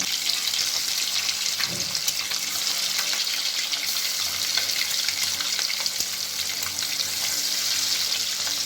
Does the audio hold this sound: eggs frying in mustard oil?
yes